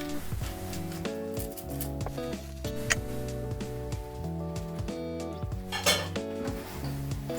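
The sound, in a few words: covering a pot of beef samosa filling to simmer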